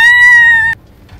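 A cat in Alice Madness Returns gives one loud, close, sustained tonal meow lasting under a second, then cuts off abruptly into near silence.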